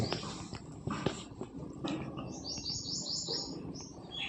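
High, thin chirps from a pigeon chick repeat in quick bursts over a faint background, with occasional soft rustles.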